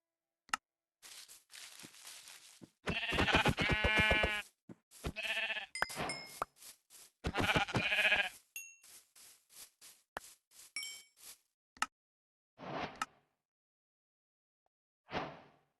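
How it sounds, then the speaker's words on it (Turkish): Sheep in the Minecraft video game bleat several times in short harmonic calls of varying length, with small chimes and clinks between them and some gaps of near silence. "Onun için de koyun bulmam lazım."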